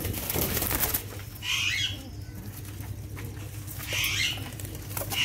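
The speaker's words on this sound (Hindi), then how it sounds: "गोल्डन कबूतर हैं ये" Golden pigeons flapping their wings in two brief fluttering bursts over a steady low hum, with faint soft rustling between.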